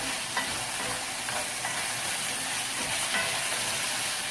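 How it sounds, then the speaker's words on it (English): Honey butter garlic chicken sizzles steadily in a hot pan while being stirred, a constant bright frying hiss with occasional soft scraping clicks from the utensil, close and alone without talk. "I'm going to go ahead and mix it up."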